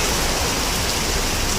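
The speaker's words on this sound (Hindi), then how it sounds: "ये देखिए बारिश जो आ रही थी" Rain falling steadily during a day in Goa, a dense, loud, even hiss of drops filling the whole moment with no voices.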